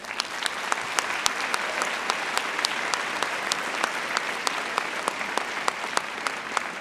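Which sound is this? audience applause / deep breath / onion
audience applause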